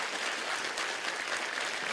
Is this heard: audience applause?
yes